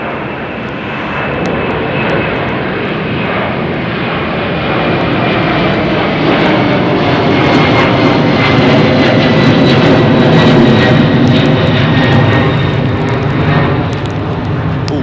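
Airbus A380 jet engines roaring at London Heathrow Airport under a low cloud base, a loud, sustained broadband rumble with a rising whine that swells and holds steady throughout, with no talk over it.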